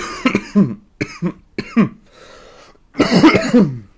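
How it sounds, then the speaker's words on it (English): A man with a lingering illness coughs repeatedly and loudly up close, in several short harsh bursts separated by brief pauses, ending in a longer rough fit of coughing. "If you get little cuts today, it's because I'm coughing a lot."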